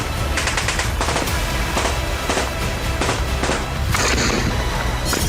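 Indiscriminate gunfire from fighters firing on army troops in Khyber Pakhtunkhwa, heard as a dense, continuous rattle of loud automatic bursts and single cracks with no pauses over a heavy rumbling background.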